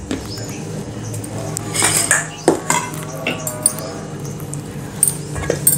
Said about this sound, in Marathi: आता आपण याच्या पुऱ्या लाटून घेऊया।